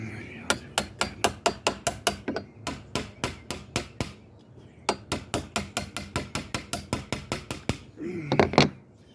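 A chisel struck repeatedly with a mallet or hammer takes the sharp edge off a slabwood table, sharp evenly paced knocks in long runs with brief pauses, ending in a short murmur of talk.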